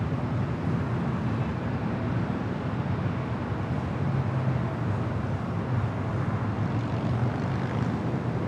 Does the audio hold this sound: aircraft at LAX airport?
yes